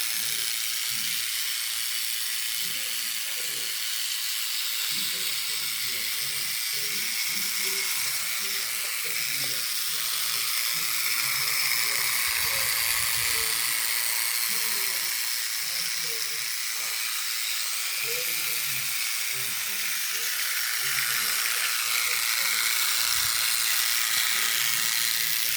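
A motorized toy model of a western-style tank engine whirs steadily along its track under a constant buzzing motor hum and hiss, close and continuous, with a person talking intermittently over it.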